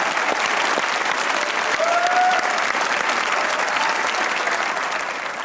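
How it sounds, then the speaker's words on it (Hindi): Steady, dense applause from a live comedy-show audience for Tabish Hashmi fills the whole stretch at even loudness, with no voices over it. "ताबिश हाशमी के लिए एक बार तालियां हो"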